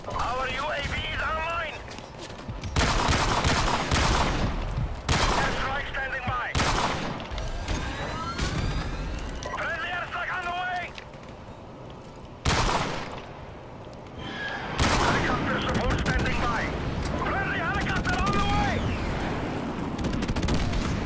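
Sniper rifle fire in a first-person shooter game, several sharp, loud cracks spaced seconds apart amid other gunfire, with someone talking excitedly over the action.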